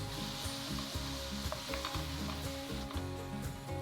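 Steady sizzling from a hot pan, with a spoon scraping and stirring through thick paneer makhani sauce in uneven strokes, close up.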